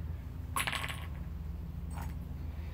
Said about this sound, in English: That rattling sound you keep hearing is me kicking my plugs.